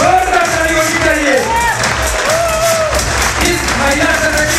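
A loud, dense wash of audience applause fills a women's day gathering at a company presentation, mixed with crowd noise, whoops and shouts, sustained and steady throughout.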